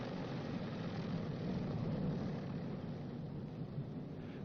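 Boeing B-29 Superfortress radial engine idling at about 700 RPM after a magneto check, a steady, continuous low drone with a throaty rumble, heard alone and fairly close.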